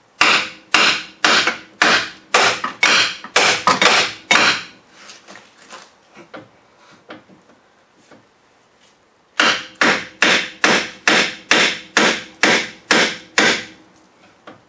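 Hammer blows against a Mazda 5 lower ball joint to knock it free, sharp metallic strikes in a fast, even rhythm, one run of about a dozen hits, a pause with faint clinks, then another equally rapid series.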